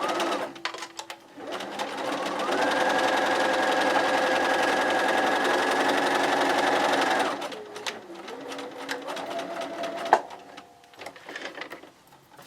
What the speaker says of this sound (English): So I'm just going to sew a couple more.